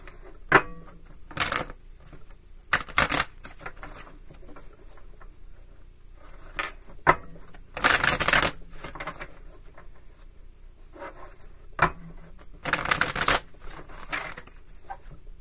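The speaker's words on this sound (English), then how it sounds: "Five shuffles." Tarot cards being shuffled by hand: brisk, papery riffles and pattering shuffles come in several separate bursts over a soft background, with no talking.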